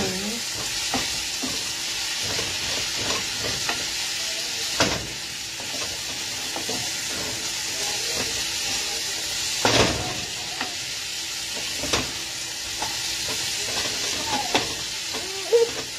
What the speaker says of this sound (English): You want to get your butternut squash golden and tender with a little bit of caramelization on there. So stir it around a little bit.